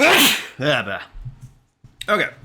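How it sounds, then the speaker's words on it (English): A single loud sneeze from a man, close and abrupt, followed by a short spoken word and a soft pause. "I gotta sneeze."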